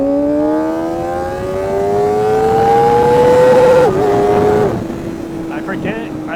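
Kawasaki ZX-4RR motorcycle engine climbing steadily toward its upper revs in a long rising whine, then dropping back briefly and holding a lower note, loud and close with no speech.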